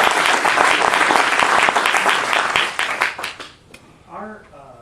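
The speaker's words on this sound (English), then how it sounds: "Round of applause." An audience at a Rotary club meeting applauds loudly for several seconds. The clapping fades out and a voice begins speaking as it ends.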